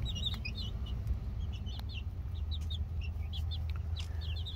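Chickens cluck in soft, quick chirpy bursts over a low outdoor rumble on a farm yard where peafowl are kept, the calls moderately near and scattered throughout.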